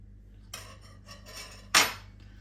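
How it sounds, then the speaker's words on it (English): A few light metallic taps and scrapes of a knife tip cutting slits into the top pastry of a meat pie, ending in one sharper, louder clink. "knife into the top of them so that they can breathe"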